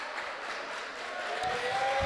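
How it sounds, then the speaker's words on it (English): Crowd at a basketball game against the Georgia Kangaroos, a broad continuous wash of cheering and clapping filling the hall, with a faint whistle-like tone and some low thumps toward the end. "Everybody cheering."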